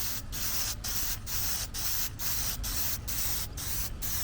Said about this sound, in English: I'm just going to spray the chrome straight onto that